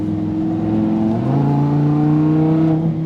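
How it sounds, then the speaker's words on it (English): A car accelerates hard while driving, its engine note climbing steadily and loud and close throughout, with no talking. "It's rapid, this car."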